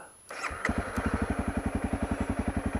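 A Honda CRF250L dual-sport motorcycle starts up and settles into a steady, rapid single-cylinder putter, loud and close, with no talking over it.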